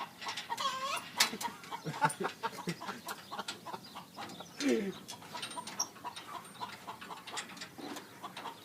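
A person imitates a chicken, producing a run of sharp clucks and squawks in uneven bursts, close and fairly loud, with laughter and a brief human voice mixed in among the calls.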